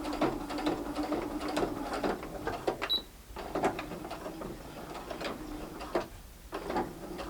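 A sewing machine top stitches around a fabric coaster with soft, uneven mechanical ticking and clattering that comes in short runs with brief pauses, fairly quiet and close.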